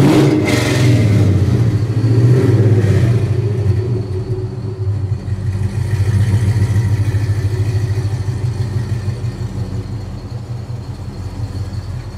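A loud custom 1970 Chevelle muscle car engine revs up and settles into a deep rumbling idle, close by, with no talking.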